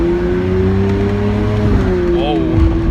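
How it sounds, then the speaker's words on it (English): Engine of an Italian sports car hums steadily with a low, sustained tone and a slight rise near the end, close and loud throughout, with a voice talking over it. "Can't help but go without noticing the hum of the car when you step on the pedal"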